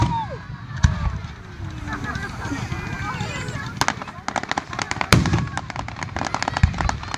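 Grand finale of a fireworks display in Lancaster, with loud booms and dense rapid crackling bursts heard from a distance, while people nearby talk and exclaim throughout.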